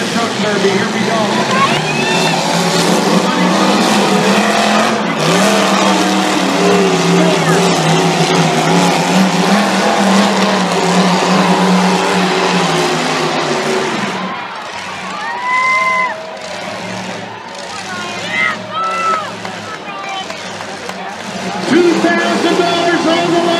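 Pickup trucks race in a championship truck derby heat at a dirt track, engines roaring loudly and continuously with occasional tire skids, crowd noise and a commentator's voice running over the whole stretch before the revving briefly dips and surges back.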